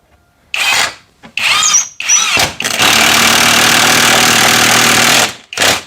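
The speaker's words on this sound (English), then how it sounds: "And what's nice about this, the impact driver, it doesn't like really slip." A compact cordless impact driver driving screws, several short bursts of rattling hammering followed by one long continuous run and a final brief burst, loud and close.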